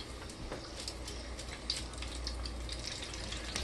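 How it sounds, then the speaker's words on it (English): Chicken pieces fry in hot oil with a steady, soft sizzling hiss and scattered small pops and crackles throughout, close by and with no talk. "you let them fry until they are golden brown"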